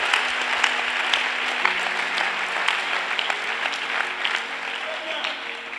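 A church congregation claps and cheers in sustained, dense applause, with voices calling out beneath the clapping for the whole stretch.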